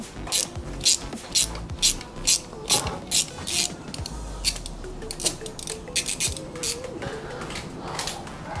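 Ratchet wrench clicks rapidly in repeated close bursts while turning the drain plug on a Mercedes GLC 9G-Tronic automatic gearbox, steady rhythmic ratcheting with brief pauses.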